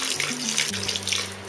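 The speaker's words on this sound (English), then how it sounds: "I'm going to add some water to it." Water pours steadily into strained chhena, a continuous close trickle and splash with no talking.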